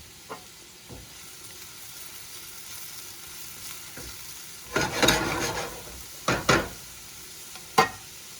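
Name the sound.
chicken sizzling in pan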